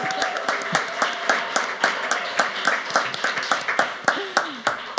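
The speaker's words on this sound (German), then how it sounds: "Dankeschön für den Applaus" Clapping from attendees at a state party delegates' conference held digitally, sparse and uneven rather than a full roar, with individual sharp claps in a steady scattered pattern across the whole stretch, moderately close.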